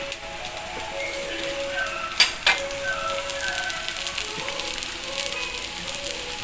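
Thanjavur-style adai batter frying in sesame oil on a pan, a soft, crackling sizzle with light spitting pops and a couple of utensil knocks, steady and close.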